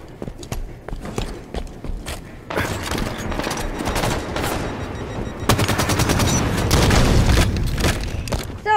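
Gunfire in the Halo video game: scattered single shots at first, then dense, loud automatic bursts that grow heavier toward the end, with no talking over them.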